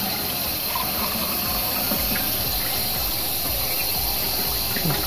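Water runs over a Starfrit The Rock stovetop grill/griddle as it is washed, a steady gushing rush with faint clatters mixed in, close and constant.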